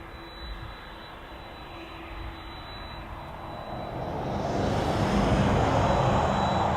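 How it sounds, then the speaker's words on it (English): A Boeing 767 jet at East Midlands Airport, its engine roar building steadily from a moderate rumble to a loud, broad wash of noise as the aircraft draws closer. "Another really lovely 767 here."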